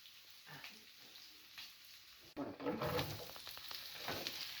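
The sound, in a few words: onions frying and being stirred in oil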